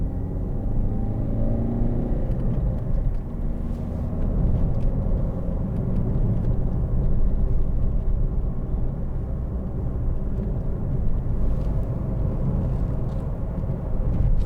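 2013 Ford Focus 1.6 TDCi ECOnetic Zetec hatchback heard from inside while driving on the road, a steady low engine and road rumble with mild swells and no talking.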